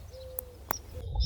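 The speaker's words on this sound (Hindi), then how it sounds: "कुछ चिड़ियाँ भी चहचहा रही है" Birds call outdoors around fields, with a thin whistle, a couple of short sharp chirps and a soft hoot over low background rumble.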